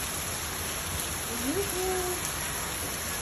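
Heavy Honolulu rain makes a constant, even wash of noise, and a faint voice-like tone rises briefly midway through.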